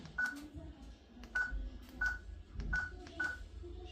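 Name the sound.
smart door lock keypad beeps while dialing passcode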